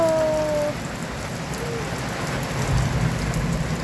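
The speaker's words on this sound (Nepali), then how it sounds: "कति पानी परेको, दिनदिनै पानी परेको परे" Steady, heavy rain pours down in Pokhara, Nepal, in a dense, continuous hiss, with a brief faint tone early on and no voices.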